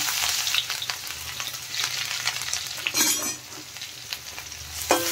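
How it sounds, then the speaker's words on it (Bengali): Garlic and grated ginger fry in hot oil for a cauliflower Manchurian, giving a steady close sizzle with stirring scrapes throughout and a couple of sharper spatters near the end. "এখন আমি দিয়ে দেব প্রথমে রসুন, দিয়ে দিলাম গ্রেট করা আদা।"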